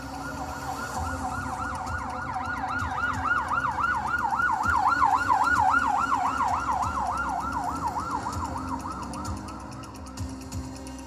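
An ambulance siren plays as a sound effect during a school annual-function play: a steady up-and-down wail repeating evenly, fairly loud and alone, swelling slightly in the middle before easing off.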